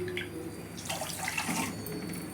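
Water runs steadily from a tap or is poured into a pan on a stove to make sugar syrup for jamun, a continuous close splashing stream with no talk.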